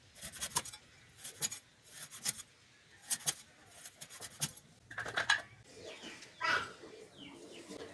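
A knife cuts thumbatti fruit into round slices. Short, crisp cutting strokes repeat at a steady pace, close and fairly quiet, with faint bird calls in the background.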